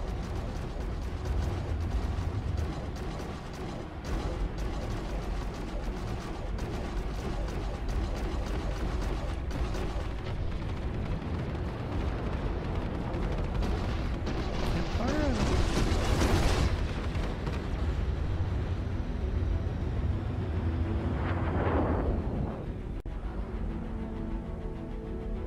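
Missile launch and explosion in the video game Star Citizen, a continuous heavy rumbling roar with a rising whooshing burst midway and another blast later, with no talking.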